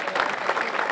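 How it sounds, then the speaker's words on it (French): An audience applauds the winners of the 2019 Saint-Émilion rally, a burst of dense clapping that stays loud for the whole brief moment. "On va pouvoir les applaudir très fort."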